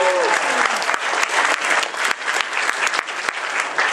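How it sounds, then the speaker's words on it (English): A convention audience at the Phoenix Comicon 2014 roast of Goku applauds a Krillin cosplayer, giving a full, dense round of clapping that holds steady for the whole clip, with sharp individual claps standing out. "Give a round of applause for Krillin."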